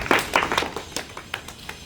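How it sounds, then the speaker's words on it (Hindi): Children at a 15 August Independence Day function clapping in scattered, irregular claps that start close and strong and then thin out into lighter, sparser taps. "ताली बजाओ बच्चे"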